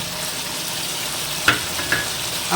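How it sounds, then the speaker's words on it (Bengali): Chopped tomatoes drop into a hot frying pan for a chicken and potato curry, giving a steady loud sizzle with a couple of brief clatters from stirring. "এবার আমি 2টো কেটে রাখা টমেটো এর মধ্যে দিয়ে দেবো।"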